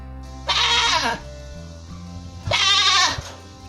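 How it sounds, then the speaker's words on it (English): A goat bleats twice, two loud wavering cries separated by a short pause, with a low hum in the background. "This is goat."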